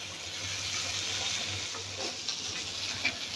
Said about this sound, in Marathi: आपण पलटी करून घेऊया तर ह्याला पण असंच आपल्याला फ्राय करून घ्यायचं